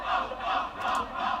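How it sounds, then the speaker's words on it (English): A rugby crowd at a university Durham v Northumbria match chants in unison after a high tackle, three rhythmic swells of voices rising and falling, loud and close, with no commentary over it. "the crowd rather optimistically chanting off, off, off, off"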